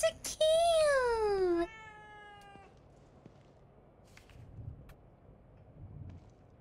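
A cat in The Evil Within 2 lets out a loud, drawn-out meow with a falling pitch, then a shorter second meow, followed by quiet ambience with faint background sound.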